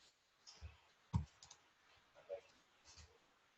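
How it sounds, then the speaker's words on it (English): A computer keyboard gives a few sparse clicks, one sharper and louder press standing out among quieter taps, close and isolated against a near-silent room during a coding session. "So I'm just going to go ahead and press enter."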